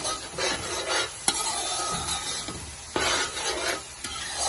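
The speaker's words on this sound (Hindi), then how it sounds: "अब हम इस मसाले को अच्छी तरह से मिक्स कर लें।" A spoon stirs and scrapes spice masala roasting in a hot pan for mutton paya, giving a steady sizzle with rhythmic scraping strokes, close and fairly loud, with no voices.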